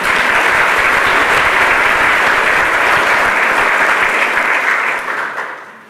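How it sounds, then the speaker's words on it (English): An audience applauds for a lecture host at a Parkinson's New Zealand talk, dense steady clapping that holds loud for about five seconds, then tapers off near the end. "receives a round of applause for his hospitality"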